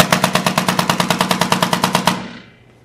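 Tippmann A5 paintball marker with a tuned response trigger firing a rapid burst of about twenty evenly spaced, loud, close shots over two seconds, then falling silent.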